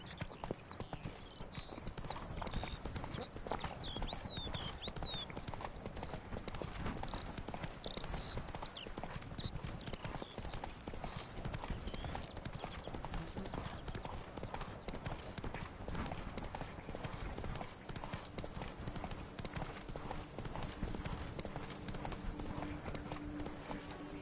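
Hooves of Roach, the horse in The Witcher 3, beat a steady rhythmic clip-clop throughout, close and continuous, with occasional bird chirps and a bit of background talk.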